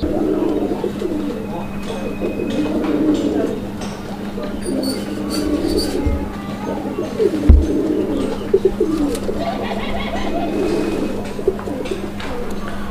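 Sky-blue coloured Raj-golla pigeons coo softly and repeatedly amid a steady low hum and scattered background noise, with a few thumps in between.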